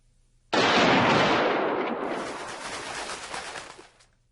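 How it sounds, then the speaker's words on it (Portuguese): A loud burst of gunfire from a Nazi SS firing squad of seven rifles erupts suddenly, then rolls into a long echoing decay that fades out over several seconds. "Com os tiros, ele caiu no chão"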